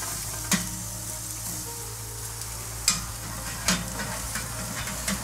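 Veal bratwurst sizzles steadily on a grill for a burger, a constant frying hiss broken by a few brief sharp pops and crackles, with no talking.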